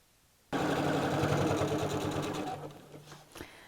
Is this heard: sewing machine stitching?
yes